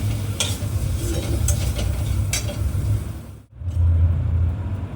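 Shrimp frying in a kadai, a steady broadband sizzle with stirring scrapes throughout, briefly dropping out near the end before resuming loud and close.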